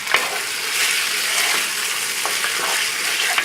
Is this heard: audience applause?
no